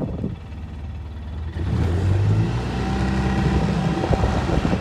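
Polaris side-by-side utility vehicle engine running steadily in reverse in Montana, a continuous mid-range motor drone that grows louder and rougher partway through, heard up close with no talking.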